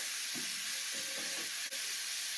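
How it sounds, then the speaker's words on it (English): Ground beef, about a pound, browning in a pan gives a steady broadband sizzle with a few soft stirring scrapes underneath, close and continuous throughout. "I already threw in 450 grams or 1 pound of ground beef into a pan. I'm going to start browning that up."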